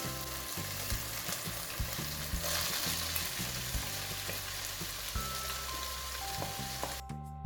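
Cubed beef pieces and onion frying in a pan, a steady close sizzle with rhythmic stirring knocks and scrapes, ending with a brief pause.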